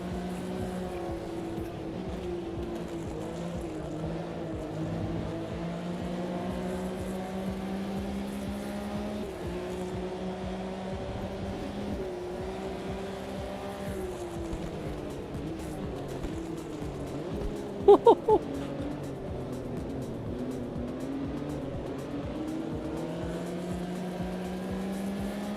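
Race car engines drone on a track in a racing video game, a continuous steady engine whine with shifting pitch as cars run uphill in a slipstream, filling the whole stretch without talk.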